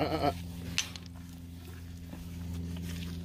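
A short sheep bleat right at the start, then a brief second call, over a steady low mechanical hum.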